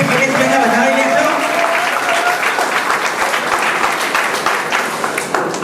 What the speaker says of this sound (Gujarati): એક વખત તાળીઓના ગગડાટથી ગિરીશભાઈને વધાવી લેશો.